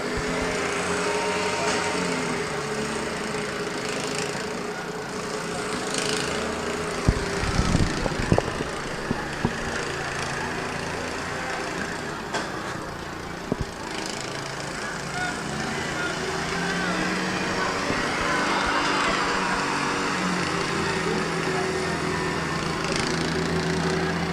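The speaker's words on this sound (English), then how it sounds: "This is the Beloit versus Hartville Lawnmower Derby, winner take all right now." Racing lawn mower engines drone steadily at a lawnmower derby, a continuous buzzing roar from small engines with a few brief knocks. Voices are faintly mixed in.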